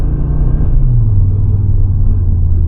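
2025 Audi RS3 facelift with a 400 hp engine and seven-speed S tronic gearbox downshifting into first gear, a loud, close, steady deep engine rumble whose pitch shifts partway through, with no talk over it.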